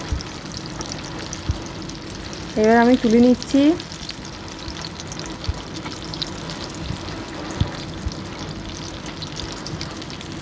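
Vegetable chops fry in hot oil with a steady soft crackle and sizzle throughout, close by, while someone speaks briefly partway through.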